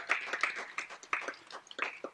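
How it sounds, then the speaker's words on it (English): An audience at a sports awards event claps for the athletes' parents, a short, fairly faint patter of applause. "So their parents need a big round of applause as well."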